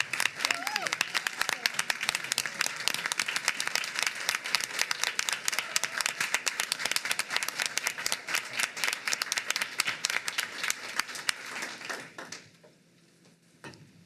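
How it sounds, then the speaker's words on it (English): Sustained applause from an audience fills the room, dense steady clapping that fades out near the end. "So let's give them all a big round of applause."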